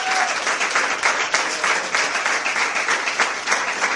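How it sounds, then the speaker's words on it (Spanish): A church congregation applauds steadily and densely, a close, continuous wash of many hands clapping with no pauses, and no talk above it. "Dame un aplauso al Señor."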